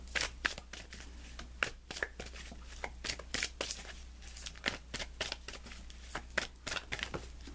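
A deck of tarot cards is shuffled before a guidance card is pulled, giving a steady run of soft riffling flicks and slaps up close over a faint low hum, with no one speaking.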